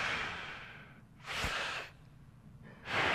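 A voice imitates the slow, rhythmic breathing of a man dozing off, giving two broad breathy swells with a pause between them, close up and unaccompanied by speech.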